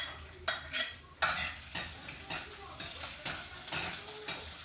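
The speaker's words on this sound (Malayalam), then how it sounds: "എണ്ണ ചൂടാകുന്നതിന് കടുകിടാം." Mustard seeds pop and crackle in hot oil in a pan, a dense steady sizzle broken by sharp spattering bursts, close and loud with no talking.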